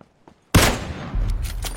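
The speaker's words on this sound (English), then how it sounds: "Danny Spain just got hit by the AWM from Scary T. Puts a big hurt on him" Gunfire in a battle royale video game, including an AWM sniper rifle: a sudden loud shot after near silence, followed by a sustained burst of rattling fire and echoing blasts.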